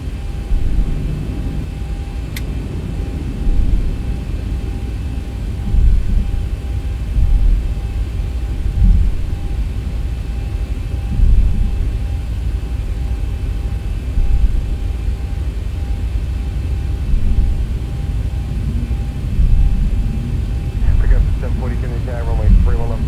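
Zibo Boeing 737-800 in the X-Plane flight simulator lining up for its takeoff roll on runway 17, a steady engine roar and low rumble holding throughout with a voice talking over it.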